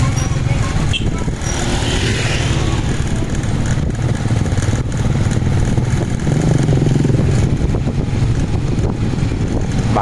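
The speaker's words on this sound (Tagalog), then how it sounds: "Bagal naman ang motor na to." A motorcycle engine runs steadily outdoors on the way out of a residential area, a low continuous drone with slight swells of revving, close and loud throughout.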